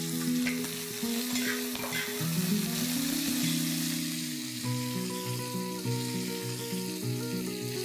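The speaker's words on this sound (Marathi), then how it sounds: "ह्याचा खमंग वास सुटला की त्यात आपण 3 कांदे लांबट चिरलेले गुलाबी होईपर्यंत परतून घेऊया" Long-sliced onions fry with whole spices, including cardamom, peppercorns and cloves, making a soft, steady sizzle with light stirring. Music with sustained notes plays loudly over it.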